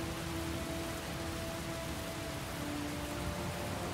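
Steady rain pours throughout a scene in the video game Heavy Rain, an even wash of downpour with faint tonal hums underneath and no talking.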